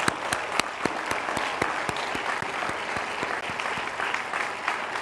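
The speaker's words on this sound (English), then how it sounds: "let's give them all a very big round of applause" A commencement audience at Johns Hopkins University claps steadily, with distinct sharp claps standing out over a continuous wash of applause throughout.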